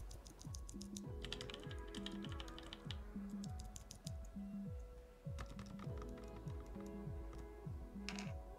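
Quick, even bursts of key clacks come from a low-profile mechanical keyboard with brown switches, crisp and close, pausing briefly between runs of typing.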